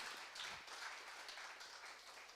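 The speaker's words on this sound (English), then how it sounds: "So another round of applause to everyone there for being able to do that." Audience applause fills a Bitcoin conference hall at Economía Bitcoin 2025, a steady wash of many hands clapping at once, fairly soft and even throughout with no voices standing out.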